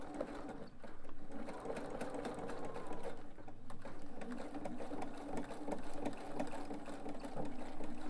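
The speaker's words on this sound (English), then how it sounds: "just going to go ahead and spread this piece and sew right along the top" A sewing machine stitches steadily along the top edge of a tote bag, a continuous quiet mechanical whir with a faint rapid needle patter and no talk.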